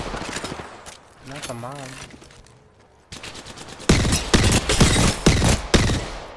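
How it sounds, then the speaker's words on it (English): Gunfire in the shooter game Apex Legends, scattered shots early then heavy rapid bursts growing loud in the second half, with a player talking over parts of it. "Whoever told all of y'all to shoot at me?"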